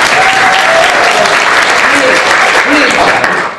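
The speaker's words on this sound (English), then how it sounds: "You give yourselves a clap." An audience at a political talk breaks into loud, steady applause with cheering voices mixed in, sustained throughout before tapering slightly at the end.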